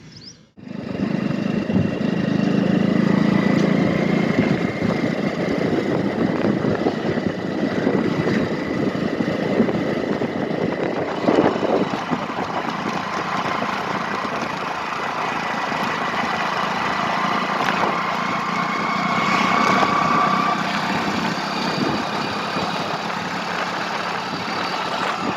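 Motorbike engine running steadily while riding on a road trip, a continuous near drone with wind rush and slight rises in revs, no talking.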